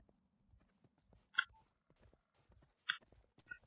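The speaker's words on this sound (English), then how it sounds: "Bring the stolen horse to Buddy. Alright, and it is a fast horse" Hooves of a fast horse in the western video game Rustler: a few sharp, sparse clops stand out over faint low game ambience, with no talking.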